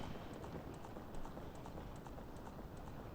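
Ganon's horse gallops in a cutscene from the video game Zelda: Ocarina of Time, a faint, steady clip-clop of hooves in a quick repeating rhythm over a dense, noisy background.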